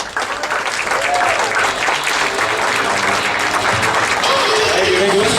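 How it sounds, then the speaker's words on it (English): Loud, dense applause and cheering from a comedy club audience welcoming a stand-up comedian to the stage, a continuous roar of clapping with a few voices calling out beneath it. "I need a big round of applause"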